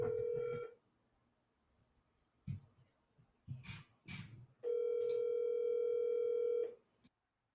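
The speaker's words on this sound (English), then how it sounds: "Hang on, I'm calling again. Better answer that phone." Outgoing telephone call with a steady ringback tone in two long bursts separated by a gap of faint clicks and short knocks, ending abruptly; no talking.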